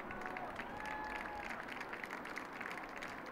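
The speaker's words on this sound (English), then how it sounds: "Round of applause for him." Crowd applause at a college baseball game between Trinity University and Southwestern University, a steady, fairly faint patter of clapping heard from a distance and lasting the whole span, with a commentator speaking over it.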